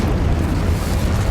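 A Confringo spell explodes in Hogwarts Legacy, a deep rumbling blast that fills the short moment with sustained low-end roar and no break in loudness.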